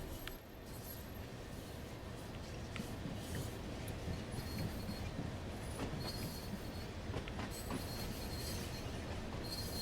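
Train passing over points in a railway simulator game on the cargo line from London Gateway to East Midlands Gateway, with steady rolling rumble, wheel squeal and rhythmic clicks as the wheels cross the junction, no talking.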